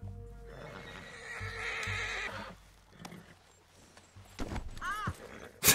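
A horse in Red Dead Redemption 2 whinnies loudly with a rising, wavering neigh near the start, while hooves clip-clop beneath it and a shorter whinny follows toward the end.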